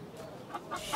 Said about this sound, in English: I've never seen a chicken that color with blue in it.